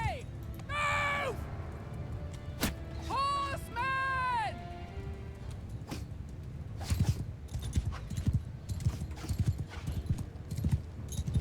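Horses in the Mount & Blade II Bannerlord video game whinny twice, then hooves clip-clop in a quickening rhythmic run that grows louder toward the end.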